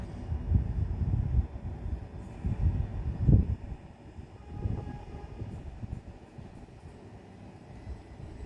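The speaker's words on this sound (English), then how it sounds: "now she goes with the 1051 Southeastern service from Sevenoaks to London Charing Cross" A Southeastern train bound from Sevenoaks to London Charing Cross rumbles past at Grove Park on the South Eastern Main Line, a low rolling clatter with a few louder thumps early on, easing to a quieter rumble toward the end.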